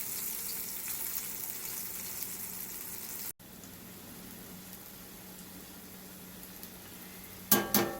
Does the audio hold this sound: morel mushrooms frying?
yes